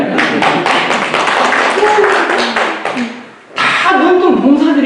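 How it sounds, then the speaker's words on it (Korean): An audience at a Won Buddhist temple sermon claps hands together in a dense, steady burst of applause, briefly thinning out before a second strong wave of clapping. "박수 한번 쳐보세요."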